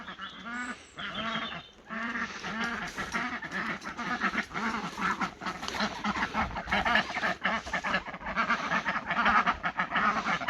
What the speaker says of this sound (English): You might not be able to hear me over the ducks